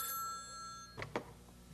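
A new home telephone rings with a bright electronic bell tone that stops abruptly, followed by a couple of soft handling clatters as the receiver is picked up; no talking.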